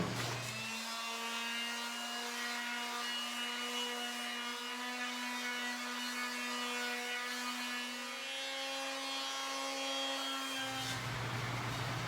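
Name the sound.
sanding wood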